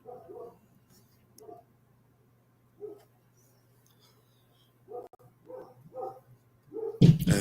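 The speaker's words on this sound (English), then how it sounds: "why is he barking?" A dog barks in short separate bursts, a few spaced across the first seconds and then a quicker run of barks near the end, over a low steady hum with a louder sound cutting in at the close.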